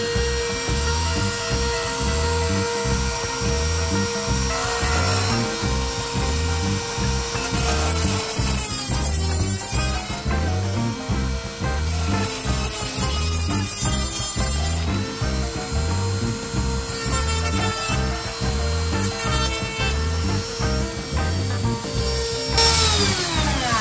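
A Dremel rotary tool grinds through model railway flex track in steady, close, continuous whirring, with repeated bursts of harsher cutting noise as the disc bites into the rail.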